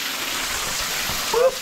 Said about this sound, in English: so here we are inside the waterfall.